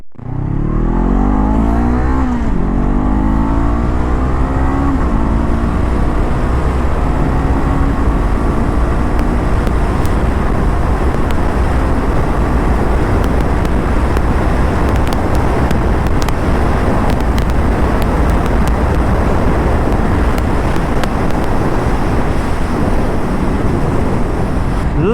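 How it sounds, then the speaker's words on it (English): A Honda CB500F 500cc motorcycle accelerates hard on an open road, its engine note climbing through gears at first, then settling into a loud sustained roar buried in heavy wind rush. "So this is a 500cc engine, one of the sweetest engine that I've ridden from Honda."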